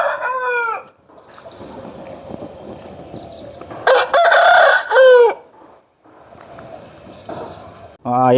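A big, top-quality Nemali Dega breed rooster crows loudly and close, once at the start and again at the end. Someone talks between the calls, and there is some clucking and a burst of commotion in the middle.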